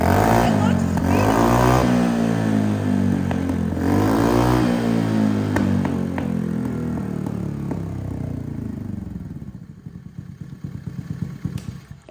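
Honda Navi with a performance exhaust revving up and down repeatedly, loud and close, with rising and falling engine pitch that settles into a rough, popping idle at the end.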